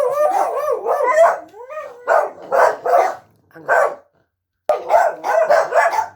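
Several dogs bark and yip in repeated bursts outside a house at night around eleven o'clock, close and loud with a brief pause, while a voice speaks briefly among them.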